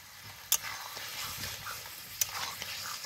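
Fried potatoes and green peas are sautéed in oil in a pan, a soft steady sizzle broken by a couple of sharp spoon clicks against the metal. The sound is quiet and close, with no talking.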